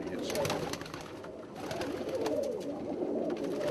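Pigeons coo steadily in a busy pigeon market, a low warbling murmur from several birds under ongoing background chatter and faint clatter.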